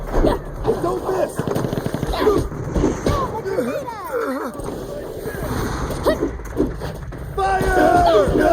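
Rapid gunfire and explosive bursts in the action game Sand Land, loud rattling volleys mixed with shouted voices and game effects, intensifying toward the end.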